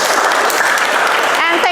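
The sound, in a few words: class applauding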